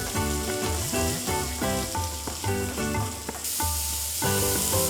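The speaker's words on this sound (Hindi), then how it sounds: "इस प्याज को अब मैं गोल्डन ब्राउन होने तक अच्छे से भूनूंगी।" Finely chopped onions fry in a pan with a steady sizzle while music plays prominently over it.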